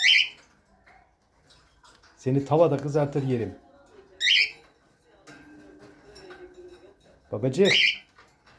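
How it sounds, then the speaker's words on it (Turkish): A pet bird gives sharp, high squawks at the start and again twice later, while a person talks in a low voice between the calls. "Cici kuş."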